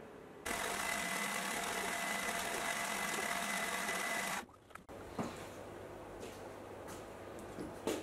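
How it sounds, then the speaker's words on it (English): Metal lathe turning down a folding knife pivot pin to length, a loud steady machining whir with a faint high whine running for about four seconds, then stopping into quieter workshop clatter and taps. "I guess I'll do it on the lathe."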